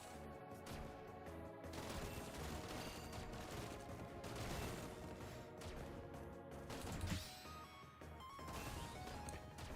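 Pistol firing in a Goddess of Victory: Nikke minigame: a steady run of sharp shots and impacts over busy game music, fairly quiet overall, with a louder hit near the end.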